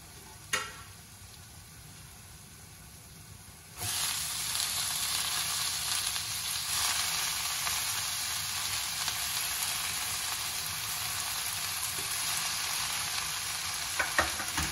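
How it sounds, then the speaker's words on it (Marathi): Fenugreek leaves hitting hot masala paste in a pan for a Maharashtrian methi and moong dal bhaji, breaking into a loud, steady sizzle a few seconds in, with a faint tap early on and occasional scrapes as the greens are stirred. "तर लगेच आपण ही भाजी हलवून घ्यायची आहे, हलवून व्यवस्थित अशी परतायची आहे"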